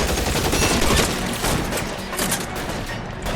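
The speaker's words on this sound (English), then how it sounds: "We're about to shoot up this whole place." Dense, continuous gunfire in LA Noire, a steady roar of overlapping shots filling the whole stretch with no clear gaps, loud and close, without talk.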